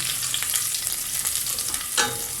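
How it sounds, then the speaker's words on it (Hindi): Curry leaves fry with onions in a pan, giving a steady close sizzle with occasional stirring scrapes and one brighter crackle burst near the end, with no talking. "अब 3-4 करी पत्ते मैंने इसमें डाल दिए हैं ताकि इसकी भी खुशबू आ जाए"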